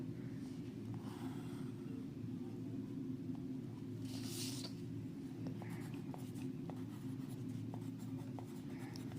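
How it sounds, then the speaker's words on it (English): Pencil scratching along a ruler while drawing a 4 cm line segment for a geometry construction: soft, close strokes over a steady low background hum. "First draw a line segment 4 cm."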